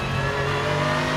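A Pagani Zonda R race car's engine revs on a circuit, a loud, steady, close mechanical drone with strong harmonic tones and no speech over it.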